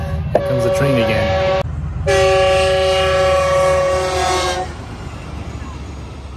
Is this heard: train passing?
yes